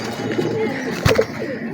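A domestic fancy pigeon gives a brief low coo over steady background noise in a loft where birds are kept for sale. It is a single short call, heard fairly close.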